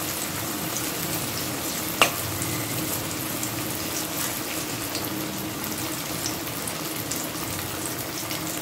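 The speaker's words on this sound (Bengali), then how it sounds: "একটু একটু ডিপ ফ্রাই করবো।" Banana fritters deep frying in hot oil give a steady, even sizzle throughout. One brief clink sounds near the start, and no one talks.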